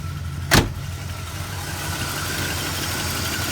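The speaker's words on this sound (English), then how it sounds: "I'm gonna take you outside so you can see that engine. It's shaking like crazy." A 1971 Oldsmobile Cutlass S idles roughly after a hard cold start, shaking noticeably. The engine hums steadily and close, with a single sharp click early on.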